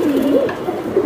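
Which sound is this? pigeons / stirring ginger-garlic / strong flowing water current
pigeons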